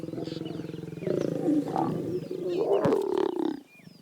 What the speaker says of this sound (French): un couple de léopards s'adonne également à la parade nuptiale.